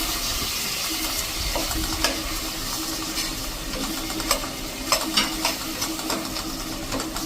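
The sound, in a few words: chopped tomatoes and curry leaves sizzling in hot oil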